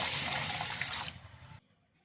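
Water poured onto washed rice in a container, a short rushing pour that stops abruptly after about a second and a half.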